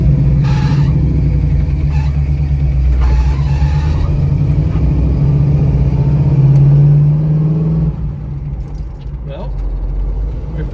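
A 1978 Pontiac Trans Am Firebird with a T-10 four-speed drives along, its engine a loud, steady low rumble that swells and then eases off near the end, with a voice talking over it.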